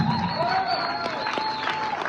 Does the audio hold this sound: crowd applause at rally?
yes